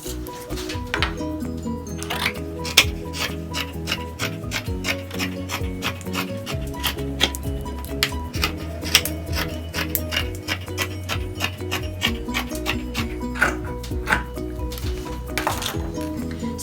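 Fabric being cut along two drawn lines for an upcycled button headband: a quick, continuous run of crisp ticking snips over a steady tonal background hum.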